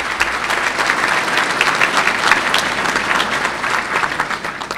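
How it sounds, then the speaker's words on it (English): Loud, sustained applause from an audience at a State of the City address, recognizing the city councilmen, with dense, even clapping throughout. "Give our city councilman a round of applause."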